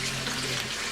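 A makeup brush is rinsed under a running tap, a steady close splash and rush of water pouring without pause.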